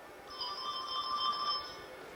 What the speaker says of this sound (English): a call rang out from her cellular phone